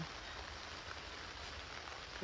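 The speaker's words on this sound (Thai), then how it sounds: "ฝนก็ตกเฉอะแฉะนะคะนี่" Steady rain patters down on a rural campsite beside rice fields, a soft, even hiss of drops on surfaces that carries on without a break and with no voices.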